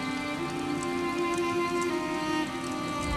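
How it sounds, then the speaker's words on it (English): Steady rain falling in the Elder Scrolls Online game world, a constant dense patter with a low droning tone running underneath throughout. "I could do without this damnable rain."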